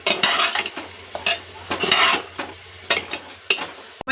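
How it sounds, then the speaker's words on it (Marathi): Soybeans being stirred into sizzling, oily masala in a pan for soybean pulao: close, loud scraping strokes in short bursts over a steady frying hiss, with no voices. "आपले जे हे सोयाबीन आहे ते टाकून घेऊया, एकजीव करून घेऊया मसाल्यांमध्ये"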